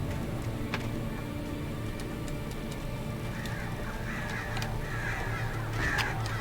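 Crows caw in the Alan Wake Remastered video game, several harsh calls scattered over a steady ambient drone and faint clicks, with no talking.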